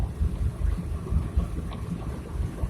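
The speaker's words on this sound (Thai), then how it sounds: "ฝนตกค่ะฝนตกเบิ้งแน่นะ" Steady rain with gusting wind outdoors, a dense low rushing wash with buffeting on the microphone, no voices.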